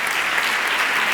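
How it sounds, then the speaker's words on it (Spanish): Dense, loud audience applause at a panel discussion of an awards forum, a continuous wash of many hands clapping close and even throughout. "Un aplauso también."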